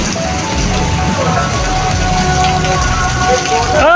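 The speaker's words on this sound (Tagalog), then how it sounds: "Ngayon, legal umuulan." Steady rain from typhoon Krising falls around a pedicab on the street, a dense hiss of drops hitting surfaces, fairly close, with voices speaking now and then.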